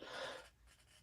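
A single sharp sneeze bursts out loud and close in a quiet room, a breathy airy blast lasting about half a second, then fades into low room noise.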